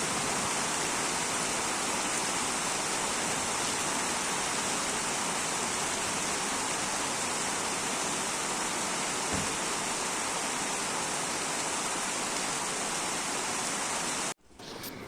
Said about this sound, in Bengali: দুপুরের দিকে আকাশটা অন্ধকার করে দেখো বৃষ্টি নেমে গেছে